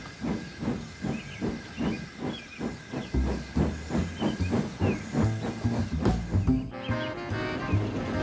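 Steam locomotive puffing along steadily, a rhythmic chuff of hissing exhaust beats with steam hiss and a brief whistle-like tone near the end, loud and close with no talk.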